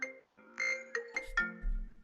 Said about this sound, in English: unfortunately, that's a phone call.